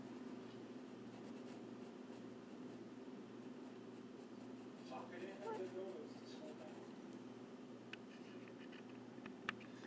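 Carbothello pastel pencil, number 585, drawing on suede matboard, a soft, scratchy stroking that runs continuously with a few faint taps, low and close, while a voice talks quietly over it.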